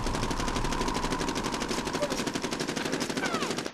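Sustained automatic gunfire in the Medal of Honor Warfighter beta: a dense, rapid stream of shots rattling on without pause for nearly four seconds, loud and close, with no talking over it.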